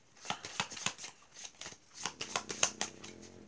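Up close, a deck of tarot-style cards is shuffled in several quick riffling bursts with short pauses between them, crisp and fairly loud, with no talking.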